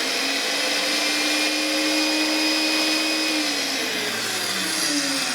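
A QTR 63 magnetic drill press runs steadily with a reamer fitted, giving a loud, continuous whirring hum that holds constant throughout with no talking.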